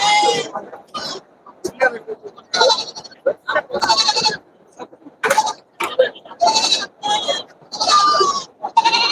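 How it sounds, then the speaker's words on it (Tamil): Young goat kids about two months old, still suckling, bleat repeatedly at the Saturday goat market in Ettayapuram, with overlapping cries near and far amid the crowd's chatter. "பொடிபடி குட்டிகள் ரெண்டு மாசம் பால் குடி குட்டிகள்"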